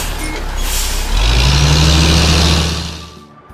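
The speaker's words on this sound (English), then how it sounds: "the flatbed truck brings the materials from far, far away" A cartoon flatbed truck rumbles loudly with a deep engine drone, its air brakes hissing and reversing beeps chirping, before the sound fades out near the end.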